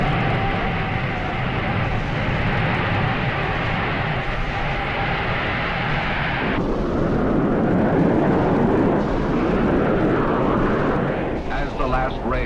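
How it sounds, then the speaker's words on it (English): The jet engine of the 1956 Bluebird jet boat accelerates on Lake Mead with a loud, continuous roar and whine that shifts in tone midway, apparently under a narrator's voice. "the quiet of Lake Mead is shattered by the whine of the accelerating jet"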